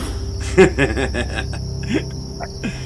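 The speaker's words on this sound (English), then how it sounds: "Loud ass crickets out there." Crickets chirp outdoors in a steady high trill, with a few brief bird-like or voice-like sounds breaking in nearby.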